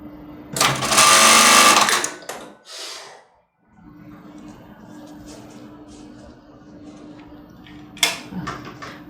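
A sewing machine stitching a padded bra runs in one loud, steady burst of about a second and a half, then falls quiet amid faint handling noises and a soft background hum, with a brief clatter near the end.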